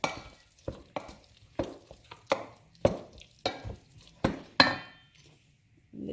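Vegan patty ingredients being mixed in a bowl with a spatula: a string of separate scraping, knocking strokes at an uneven rhythm, close and fairly quiet, with no talking.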